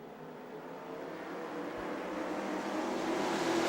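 Grand National Sportsman race car engines at Music City Motorplex in Nashville, Tennessee roar together, a broad rumbling drone that slowly grows louder as the cars rev up.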